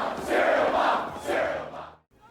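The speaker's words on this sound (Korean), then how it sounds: "그녀는 관중들의 격렬한 환호를 받으며 클럽에서 퇴장합니다." A film crowd in a club roars and cheers wildly, a loud blended swell of voices that peaks twice before dropping off abruptly into near silence.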